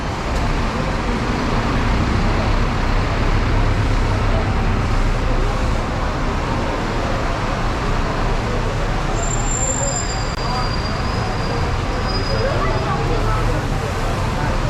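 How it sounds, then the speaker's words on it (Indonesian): Dense city traffic in Kuala Lumpur during heavy rain, with a bus bound for Kajang among the vehicles, producing a constant loud roadway rumble with engine drone and a brief high squeal, while people talk nearby. "Ini bus yang pergi ke Kajang 450."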